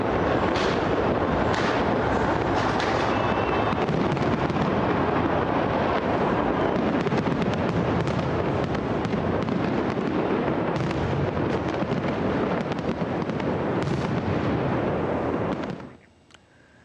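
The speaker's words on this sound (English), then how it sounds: "the year 2024 was welcomed with a spectacular and colorful fireworks display that lit up the ancient monuments of the Acropolis in Athens" New Year fireworks over the ancient Acropolis monuments in Athens, a dense continuous barrage of loud booms and crackling bursts with wind buffeting the microphone, cutting off abruptly near the end.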